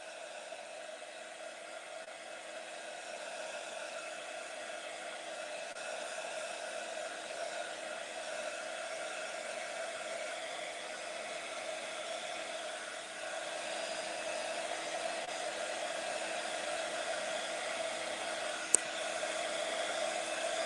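A hair dryer runs steadily for about twenty seconds, blowing to dry the front and back of a wet painting; a constant, fairly loud whooshing whir with no talk over it.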